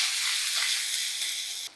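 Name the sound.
crushed garlic and asafoetida sautéing in hot oil in a kadhai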